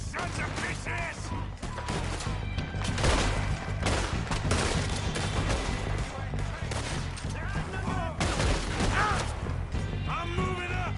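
Loud, dense gunfire in a Red Dead Redemption 2 shootout: repeated shots and bursts crack close by in rapid, irregular volleys for the whole stretch, with shouting voices among them.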